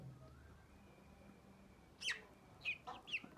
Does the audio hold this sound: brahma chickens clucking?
yes